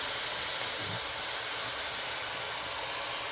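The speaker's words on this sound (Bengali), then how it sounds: "এবার তেলের উপর আমি লাউটা দিয়ে দেবো।" Bottle gourd slices sizzle in hot mustard oil, a steady, dense hiss filling the whole moment with no pauses or talk.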